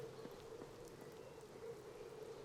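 Rain falling in the video game Lost Odyssey, a soft continuous hiss of drops on surfaces, faint and steady throughout with no talking.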